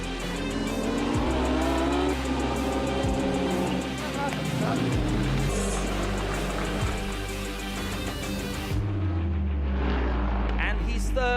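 Lamborghini race cars in a P9 Challenge sprint race at the Red Bull Ring roar past at full throttle. Loud engine notes rise and fall as they pass, with brief tire squeal, and a commentator talks over the action.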